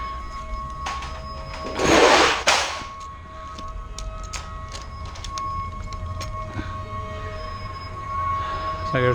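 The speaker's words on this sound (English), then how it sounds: "It's like there's a train over there trying to stop." Nearby train braking to a stop, with a loud burst of screeching and hissing early on, followed by scattered metallic squeals, clanks and a faint tonal whine over a rumbling background.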